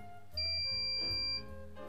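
A security DVR's buzzer sounds a single sustained high-pitched electronic beep, signaling hard drive errors, lasting about a second before cutting off, fairly loud and close over a quiet background.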